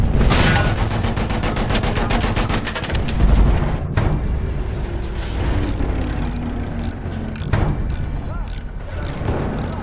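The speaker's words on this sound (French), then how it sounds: "Attention, mitrailleuse." Dense machine gun fire in the video game Battlefield 1 rattles continuously at the start and gives way to sustained heavy gunfire and battle din. A voice speaks briefly underneath.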